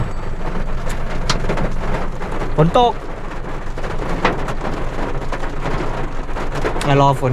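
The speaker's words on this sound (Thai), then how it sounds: "ฝนตกมารอ" Steady heavy rain pours throughout at a beach campsite, a dense close hiss with a few brief sharper knocks and rattles breaking through.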